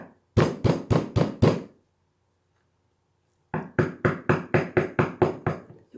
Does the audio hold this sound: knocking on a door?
yes